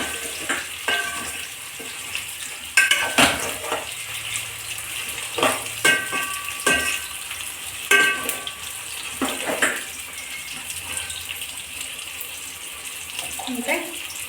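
Fish pieces frying in oil in a pan, a continuous hiss and sizzle with repeated sharp clatters of a utensil against the pan, close and fairly loud, with no talk.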